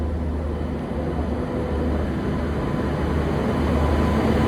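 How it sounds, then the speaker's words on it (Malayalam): A train arrives at a railway platform, a loud, steady, broad rumble of engine and wheels close by with no talk. "അങ്ങനെ ഞാൻ ഒരു ബോട്ടിൽ വെള്ളവും വാങ്ങിയിട്ട് നടക്കുമ്പോഴാണ് ട്രെയിൻ വരുന്നത്."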